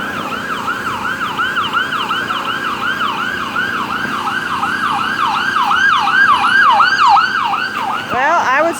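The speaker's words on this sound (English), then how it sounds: "And ambulances, I'll tell you, there comes one down there." An ambulance siren wails in a fast repeating rise-and-fall, growing louder as it approaches and passes amid traffic noise in Norristown, Pennsylvania.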